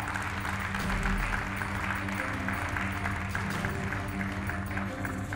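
Audience applause at a Turkish sales summit as a marketing executive is introduced on stage, a dense, steady wash of clapping across a large hall with a low hum beneath and a faint voice.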